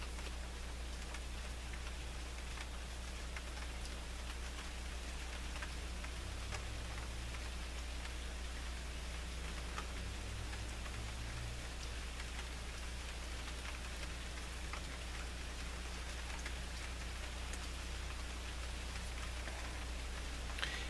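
Steady rain falls continuously, a dense even hiss of drops on surfaces with faint scattered ticks, alongside a constant low hum, with no voices throughout.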